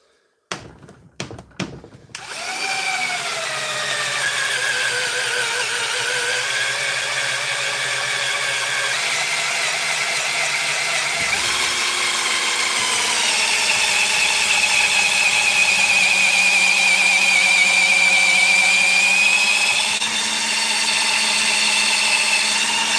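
A Draper drill with a 10mm chuck, fitted with an auger bit, gives a few clicks and knocks, then spins up into a loud, steady motor whine. The whine holds for about twenty seconds, its pitch shifting slightly as it works.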